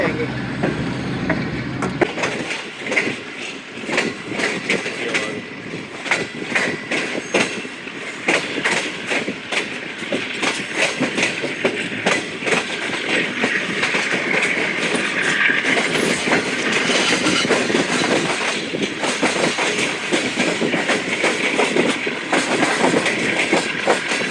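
The Shalimar Express passenger train runs at speed, around 110 km/h, with loud, continuous rumbling and rapid rhythmic wheel clatter heard from on board, and a faint voice now and then under the noise.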